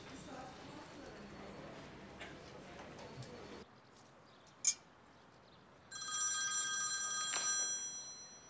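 A telephone rings with an incoming call in a TV drama scene: a sustained electronic ring enters loudly near the end, after a quieter room tone and a brief sharp click.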